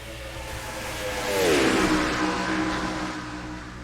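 Race car engines scream in an NR2003 video game race at Charlotte Motor Speedway. One engine note sweeps audibly past over a steady background drone of the field, with no voices.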